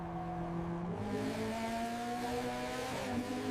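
A supercar engine at wide-open throttle in a drag race makes a loud, sustained roar whose pitch climbs steadily and shifts between gears, heard close and alone.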